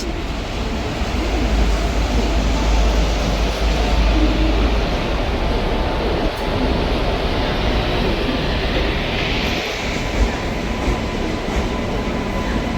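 Steady loud rumble of a moving passenger train arriving at Kalyan Junction, with continuous low roar and rail noise throughout, no clear voices standing out.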